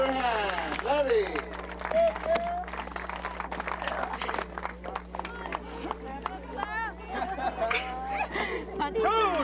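An audience claps and cheers for competitors at a fish cutting contest at the 2004 Kattivik Northwest Native Trade Fair in Alaska, patchy applause mixed with crowd noise while an announcer talks over it.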